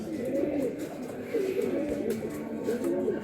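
Pigeons, Andhra and Madrasi breeds kept for sale near Kolkata, coo in repeated soft, throaty phrases that roll on steadily, close by, over a faint background murmur.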